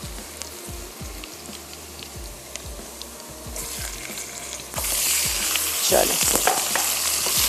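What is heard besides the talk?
chicken and garlic frying in oil and butter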